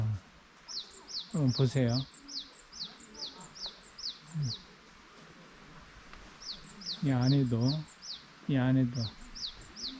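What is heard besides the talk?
birds singing at Seonamsa temple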